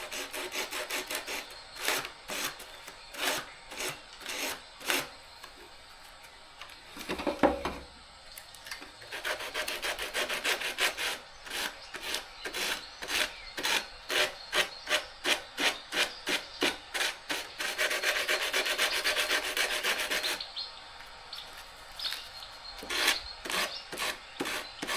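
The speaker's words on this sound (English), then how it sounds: "I was uncertain if we could remove it with just sandpaper" Hand sandpaper rubs on a wooden stub on a piece of found furniture, making close, steady rhythmic rasping strokes in fast back-and-forth bursts with short pauses between.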